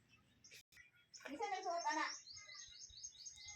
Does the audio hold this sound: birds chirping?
yes